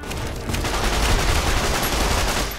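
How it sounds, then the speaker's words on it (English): A 9mm submachine gun fires in the video game Fallout: New Vegas, a loud, dense burst of rapid automatic gunfire sustained for nearly three seconds without pause. "We have a little 9mm submachine gun."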